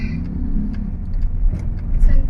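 Interior road noise of a Toyota Veloz driving through traffic in San Fernando, a steady low engine and tire rumble with a few soft clicks, while people talk faintly in the cabin.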